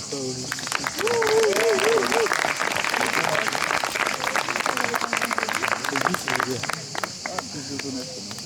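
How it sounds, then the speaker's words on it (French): Guests applaud at an outdoor secular wedding ceremony at Hameau de Valouse, dense and sustained clapping with voices mixed in throughout. "Je vous demanderai de bien vouloir l'applaudir."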